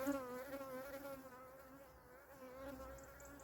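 A single honeybee buzzes steadily close by at an apiary in Portugal, a droning hum that wavers slightly in pitch, heard alone against faint background noise.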